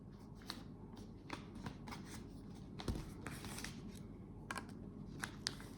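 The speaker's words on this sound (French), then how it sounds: "On va ouvrir ce magnifique emballage." Kraft paper around a tape-sealed book package crinkles and tears close by, a quiet run of rustles with a few sharper rips and snaps and no talking.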